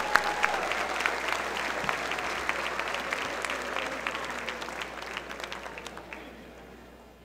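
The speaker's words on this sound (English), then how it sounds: "So another round of applause for Sarah Cooper." Sustained audience applause at a book festival author dinner honoring Sarah Cooper, dense steady clapping from a large room that slowly fades toward the end.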